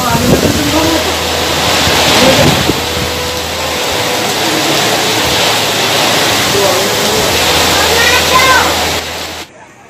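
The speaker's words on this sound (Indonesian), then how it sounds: "Angin ribut!" Whirlwind storm winds roar continuously and loudly over a village in Tulang Bawang, Lampung, a dense rushing noise buffeting the microphone, with people shouting underneath throughout.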